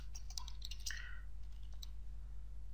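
Computer mouse clicking while working in Revit software, a few quick faint clicks in the first second and one more shortly after, over a low steady electrical hum.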